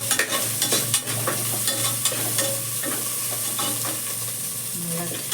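Ginger sautéed and stirred in a pan, with repeated sharp spoon scrapes and taps over a steady frying sizzle, near and fairly loud, no speech.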